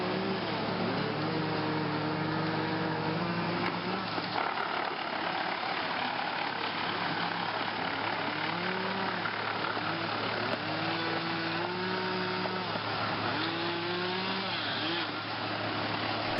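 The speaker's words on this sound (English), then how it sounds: "processed at Bamboo Land using the Bandit 250 XP chipper, turning bulky stalks into workable mulch" A Bandit 250 XP chipper with a 12-inch disc roars continuously while chipping bamboo stalks into mulch, its engine pitch dipping and rising as each culm is fed through.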